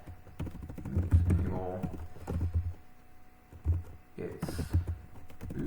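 Someone types on a computer keyboard while entering lines into a file in a Unix shell, giving bursts of quick, close clicks and thumps. A person speaks over and between the keystrokes.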